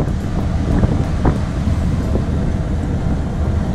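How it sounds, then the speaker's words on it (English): Wind buffeting a microphone on a breezy day at the cruise port in Basseterre, St. Kitts, a continuous low rumble and roar with faint harbour noise, loud and close. "A little windy today, so it's very choppy out there."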